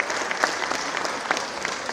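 An audience at an awards evening claps steadily, a dense even wash of applause with no voices over it.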